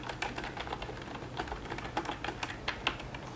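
Rapid typing on a 4Tech wireless keyboard, with a steady run of close, crisp key clicks and occasional louder keystrokes, no voices.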